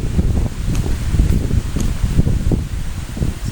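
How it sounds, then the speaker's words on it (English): Outdoor wind blowing steadily, with a constant low rustle and gusting rumble across the whole stretch and no talking. "that's a real wind stirring up"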